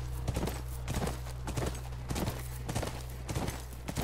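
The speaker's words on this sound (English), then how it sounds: "That's our horse." Horse hooves clip-clop steadily in The Last of Us, near a ranch, with a low ambient drone underneath. The hoofbeats are close but soft and fall in an even walking rhythm, with no clear neigh.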